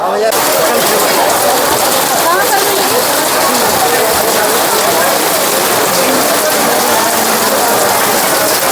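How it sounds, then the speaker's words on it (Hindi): Heavy rain and hail pound down on the Kedarnath trek in the Himalayas, a loud, dense, continuous hiss and patter filling the whole stretch without pause. "बारिश आने लग रही है बहुत तेज़, ओले ओले गिर रहे हैं"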